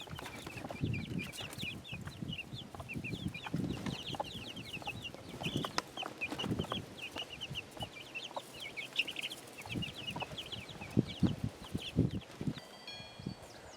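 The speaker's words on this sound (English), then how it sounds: "All right, little baby chicks." Homestead chickens and baby chicks clucking and peeping steadily at a moderate distance, with soft repeated chirps and scattered rustling and footsteps throughout.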